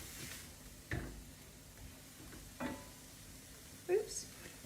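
Sausage, peppers and onion frying in a pan with Italian seasoning, stirred with a few distinct scraping strokes over a low, steady sizzle; quiet and close, with a faint voice in the background.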